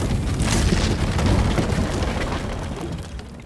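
A big fire burning through a barrier in the video game Shadow of the Tomb Raider, a loud, roaring, crackling rush that flares up and then slowly fades.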